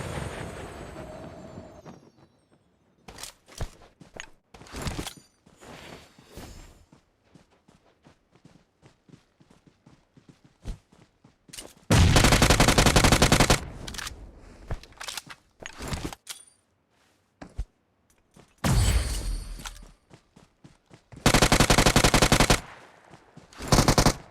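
Gunfire in the video game PUBG: scattered single shots and footsteps give way to several loud, sustained automatic bursts, close and dominant, with no talking.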